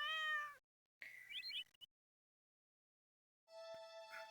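A cat meows in the Stardew Valley farming game, a few separate clear mewing calls with silent gaps between them, clean and close with no talk.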